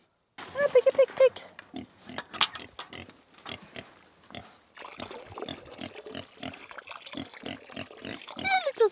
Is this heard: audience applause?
no